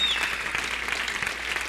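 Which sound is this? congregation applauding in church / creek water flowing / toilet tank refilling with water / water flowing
congregation applauding in church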